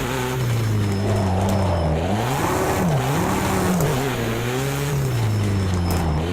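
Race car engine from a VR racing video game, loud and continuous from start to end, its pitch rising and dipping through repeated gear changes and revs, with tyre noise beneath and no talking.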